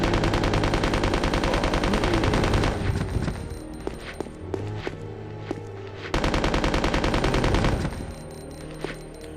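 Rapid automatic gunfire from a weapon in the video game Resident Evil Code: Veronica X, loud dense bursts at the start and again near the end, with scattered single shots and impacts in the quieter middle.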